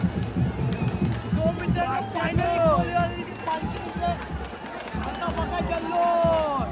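A festive crowd at a palkhi procession in Panvel Koliwada makes a dense, continuous clamour of shouting and cheering, with whistles and voices packed close together throughout.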